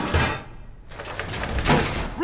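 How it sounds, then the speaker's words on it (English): Reinforcement being set on a wall in Rainbow Six Siege, a short heavy mechanical slam and slide, like a metal barrier locking into place, with game noise around it. "Reinforcing the wall!"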